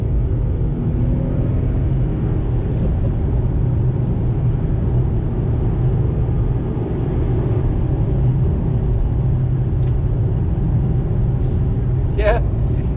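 A Ford Mondeo ST220's 3.0-litre V6 engine drones steadily at low pitch, rising gradually as it accelerates through the gears, with a brief higher whine near the end.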